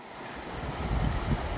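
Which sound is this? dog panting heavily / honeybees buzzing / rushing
rushing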